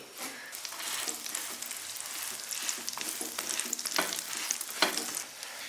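Flatbread made from leftover steamed buns sizzles steadily as it pan-fries, a continuous crackling hiss with occasional sharper pops, close up and with no talking.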